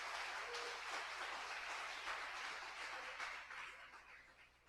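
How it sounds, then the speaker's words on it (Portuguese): A church congregation at a family celebration service claps steadily for several seconds, a faint, distant patter of many hands that trails off near the end. "Vamos aplaudir mais uma vez a vida da irmã"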